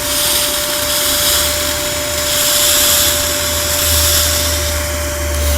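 A Karcher SE3-18 cordless spray extractor drones steadily at close range as it vacuums upholstery, its whine holding an even pitch while the suction rises and falls in slow swells with each pass.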